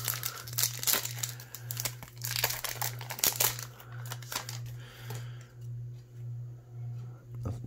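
A foil wrapper on a retail baseball card pack crinkles and tears in quick, close rustling bursts over a low pulsing hum, then the handling fades to quieter rustles.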